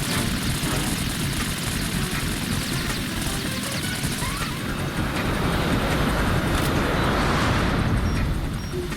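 Harrier jet in the Metal Gear Solid 2 video game, a loud, continuous engine roar with rumbling turbulence that fills the whole stretch, slightly intensifying toward the end, with no voices.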